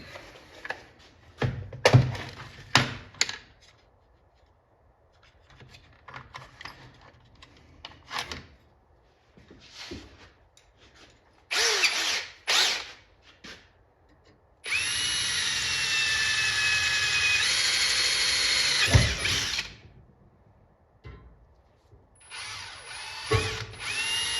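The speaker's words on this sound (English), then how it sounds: "Let me go grab a drill and we'll get these drilled" A power drill fitted with a 3/16 bit bores holes for a speaker grille on a Paperboy arcade cabinet. Short close whirring bursts and clunks come first, then a long, loud sustained drilling run and a final brief burst.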